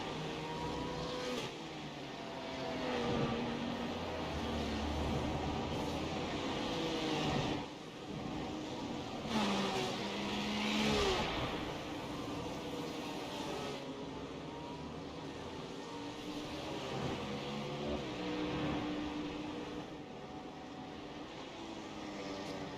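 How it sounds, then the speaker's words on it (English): Ferrari GT3 race car in a sim racing game at Rudskogen, heard from the onboard camera: a loud, continuous engine drone that rises and falls through gear changes and revs, with the whine of other cars blending in, and no talk. "Drop back and go on board with Miles in the Ferrari"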